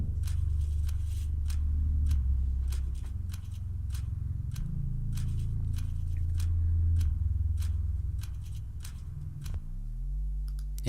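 Simple percussion with a bass line produced in Logic Pro X: sharp clicky hits tick along in a steady rhythm over a loud, sustained low bass, with the bass sliding near the end.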